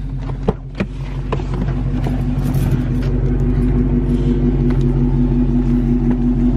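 A Dodge Charger's engine holds a steady, loud rumbling rev during a burnout, with a few sharp clicks near the start before the drone settles into a constant roar that fills the rest.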